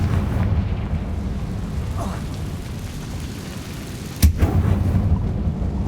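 Explosive Confringo spell blast in Hogwarts Legacy: a sharp, loud burst near the end cuts through a steady low rumble that fills the whole clip, with no talking.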